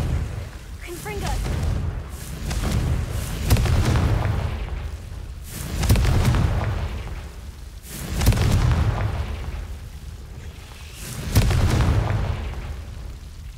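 A Confringo fire spell blasting in Hogwarts Legacy, the video game, aimed at devil's snare guarding a chest: a series of deep booming bursts, about five over several seconds, loud and close over a low rumbling bed.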